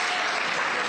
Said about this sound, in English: Give him a big round of applause, please.